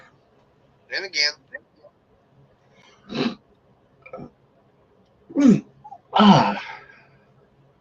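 A person sneezes again in a casual evening chat, a couple of sharp loud bursts near the microphone with brief voiced exclamations and talk around them.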